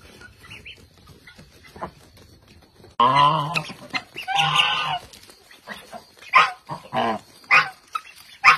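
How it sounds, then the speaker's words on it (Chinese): Puppies yelping and whimpering up close: a quiet start, then loud bursts of high cries, a run of clustered yelps followed by short separate squeals near the end. "小狗狗。"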